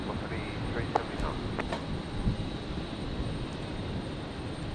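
An aircraft taking off from runway 01 left at Brisbane Airport on a stormy night gives a continuous broadband engine roar, distant and steady, mixed with wind noise.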